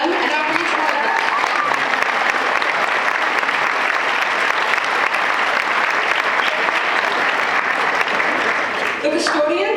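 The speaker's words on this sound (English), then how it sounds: "Now let's have a round of applause for them, and now for each one of them." Sustained, loud applause from a graduation audience honoring teachers during a valedictorian speech, dense and steady for the full length with a few louder claps near the end.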